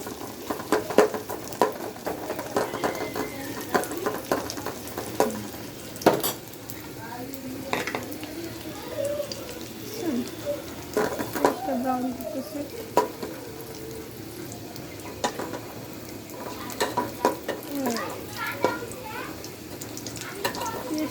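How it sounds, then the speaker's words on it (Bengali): Onions browning in hot oil in a pan give a steady close sizzle, with frequent scraping and clinking as a utensil stirs them against the pan throughout. "পেঁয়াজটা একটু ব্রাউন করে নিব।"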